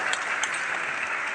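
Steady crowd applause fills the short moment, a dense wash of many hands clapping at once with no voices rising above it.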